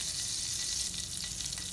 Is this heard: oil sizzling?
yes